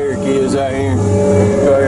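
Diesel engine of a Tigercat 630E forestry skidder revving hard under throttle from inside the cab, a loud steady drone with rising harmonic tones and a voice talking over it.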